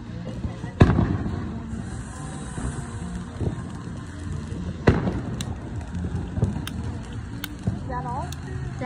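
Fountain fireworks on the Fourth of July make two loud sharp bursts, then a steady crackling hiss with smaller pops, while people talk nearby.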